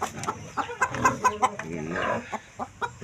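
Several chickens clucking close by in short, uneven bursts, with a brief louder squawk in the middle.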